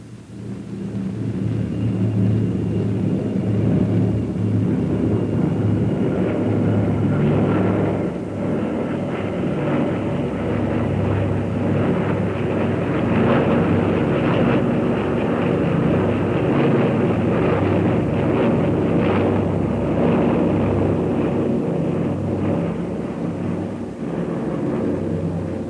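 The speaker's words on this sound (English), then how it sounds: "The Bristol Brabazon is on its way, the world's largest civilian land plane." A deep, continuous multi-engine drone from the Bristol Brabazon airliner, with eight piston engines coupled in pairs, rumbles steadily throughout, loud and sustained with slight swells, like a big propeller plane passing overhead.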